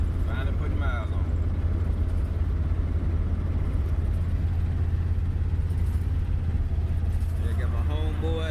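A 3rd gen Camaro with a leaking left rear rim cruises down the road, its steady engine and road rumble filling the low end throughout, with people talking inside the car.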